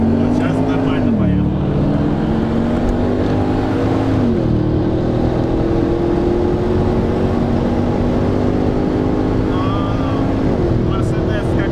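An Audi RS5 and a Porsche Panamera Turbo launch hard in a drag race, engines droning loud and steady, with pitch sweeps at each gear shift as they pull away; someone speaks over the roar.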